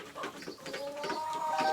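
Two homestead chickens squabble, giving out repeated clucks and squawks in quick uneven bursts, close and moderately loud, with a few higher piping calls mixed in.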